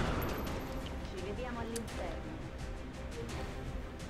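XCOM Long War gunfire plays as steady, layered rattling bursts, like a fusillade in the background. A voice talks over the shots throughout.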